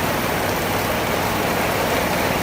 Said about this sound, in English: So it's been raining since morning.